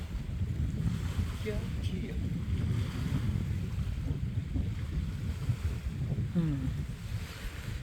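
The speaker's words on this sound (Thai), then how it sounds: "ฟังเสียงน้ำเนี่ยครับสุดยอด" A continuous, heavy roar of water rushing from a dam spillway at Lam Pao Dam fills the air, steady and broad, with some wind buffeting and a faint voice underneath.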